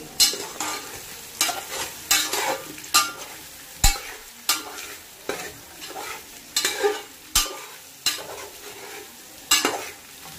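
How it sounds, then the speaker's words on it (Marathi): A spatula stirs and mixes soya biryani in a pan, producing loud rhythmic scrapes and clanks over a low frying sizzle, repeating roughly every second. "सर्व मिक्स करून घ्यायचं."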